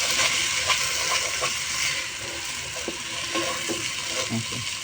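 Rice grains fry lightly in oil for vegetable khichuri, giving a steady, even sizzle with faint stirring scrapes and clicks throughout.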